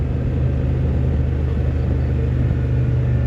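A 2024 Kymco AK Premium scooter is ridden, a low steady engine drone and road rumble heard up close at a constant pace.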